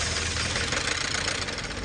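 A Mitsubishi 4D35 diesel engine runs close by with a loud, steady, rough knocking idle that continues unbroken throughout, with no voices.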